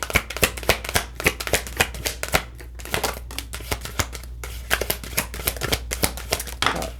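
Tarot cards shuffled by hand, heard as rapid, close riffling and flicking bursts repeating steadily throughout, with no voices.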